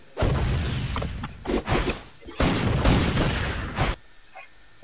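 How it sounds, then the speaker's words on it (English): Air bombs explode in the video game Elsword, two long rumbling bursts of booming blasts with shorter hits between them, loud and close. "I throw air bombs."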